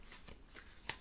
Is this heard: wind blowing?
no